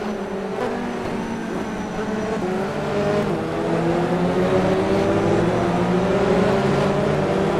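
Touring race cars pulling out of the pit lane one after another, engines droning and rising in pitch as they accelerate, a loud continuous close-range roar building over several seconds.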